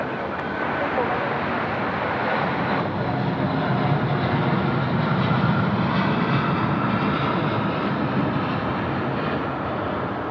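A jet landing on runway 34 left at Sydney Airport, a loud continuous broadband engine roar and rushing air that holds steady throughout at close range.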